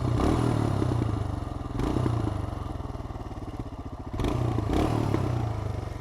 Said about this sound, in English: And the exhaust, it's a nice sound to it.